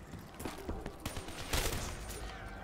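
Gunfire at zombies in the video game Black Ops 3 keeps up as a constant, busy stream of rapid shots with dense game noise underneath, steady and fairly loud throughout.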